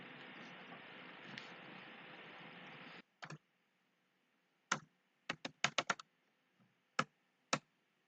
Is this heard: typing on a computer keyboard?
yes